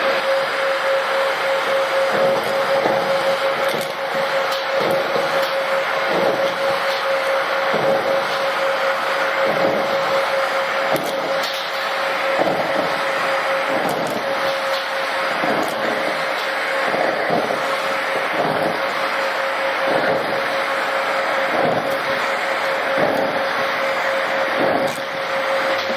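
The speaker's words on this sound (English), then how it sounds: "So we've just seen the skyVac rapidly remove them leaves from that gutter" A Virtual Elite skyVac gutter vacuum runs steadily with a sustained motor whine and airy roar as it sucks leaves from a gutter, with irregular rattling thumps of debris passing through the hose.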